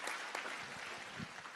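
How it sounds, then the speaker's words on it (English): A round of applause sweeps through a town hall audience in Delaware, a faint and distant wash of clapping with a few louder individual claps. "Can you please give a round of applause to our teams, to the security, the police,"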